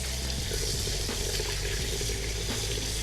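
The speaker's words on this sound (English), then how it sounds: "I just rinse these until they don't feel slimy." Corned beef briskets rinsed under a running kitchen tap, a steady broadband rush of flowing water with faint splashing as the meat is handled, continuous and close throughout.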